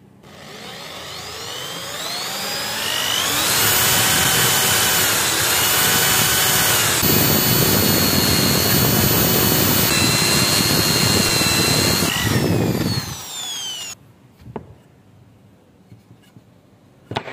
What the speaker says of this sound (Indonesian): kita bor dengan menggunakan bor ukuran 2 cm bisa, 1 cm bisa, atau 3 cm bisa ya.